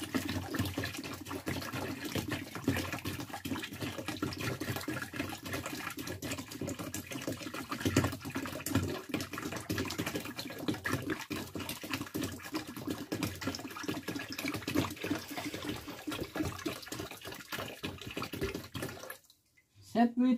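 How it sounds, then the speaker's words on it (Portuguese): Water pours steadily into a basin already holding about five litres, a continuous splashing gush that runs for most of the stretch before cutting off near the end, with counting voices over it. "Aí eu vou derramar mais 2 litros"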